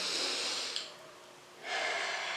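A deep breath in two long airy phases, a close inhale then a slow exhale after a short pause, soft and alone with no talking.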